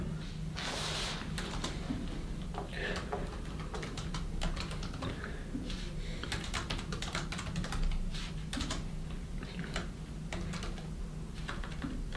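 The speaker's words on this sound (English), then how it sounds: "let me type these in so you guys can see them" Names are typed on a computer keyboard, giving a long, steady run of close, crisp keystrokes with uneven rhythm and short pauses over quiet background hum.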